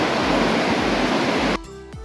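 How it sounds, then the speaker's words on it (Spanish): A river waterfall cascades with heavy flow after rains, a steady broadband roar heard alone and close, briefly interrupted near the end. "Estos días que hay agua, hay bastante caída ahí del río y esta hermosa cascada."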